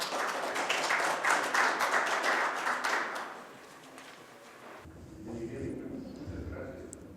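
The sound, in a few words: audience applause at conference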